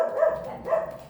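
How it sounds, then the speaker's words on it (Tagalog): A dog gives two short, moderately loud barks about half a second apart, with no one speaking over them. "Ang aso kong mandirigma."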